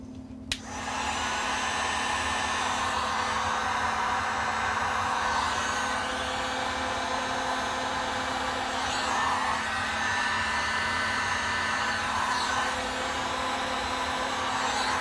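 A heat gun blows a steady, close hum and rush of air without a break, shrinking heat shrink tubing on a ham or CB amplifier foot pedal build.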